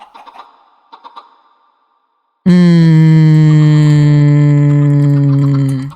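Video game chickens make a few soft clucks, then a loud sustained tonal call holds for several seconds before cutting off.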